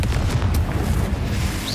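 Fiery blast of the Confringo spell in the video game Hogwarts Legacy, a loud, sustained low rumbling boom with crackling bursts that fills the whole moment, with no voices over it.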